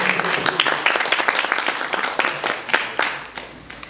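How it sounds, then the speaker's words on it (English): A conference audience at a digital marketing session claps for a volunteer presenter: dense, lively applause with distinct individual claps standing out, moderately loud and close, no talking over it. "Please give a round of applause."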